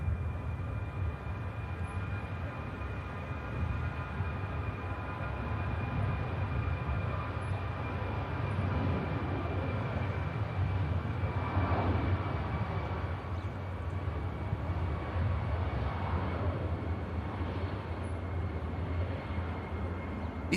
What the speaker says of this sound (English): EasyJet about to rotate for Belfast